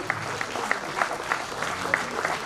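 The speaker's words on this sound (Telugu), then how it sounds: "అందరూ గట్టిగా చప్పట్లు కొట్టాలండి." Audience clapping at a stage event honouring union officials, a steady mid-level patter of many hands with scattered louder claps, continuous throughout.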